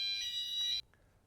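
An alarm bell goes off in a lecture hall with a loud, high, continuous ringing tone that cuts off abruptly after under a second. Near-silence with a faint click follows.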